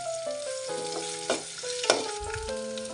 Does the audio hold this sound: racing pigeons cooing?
no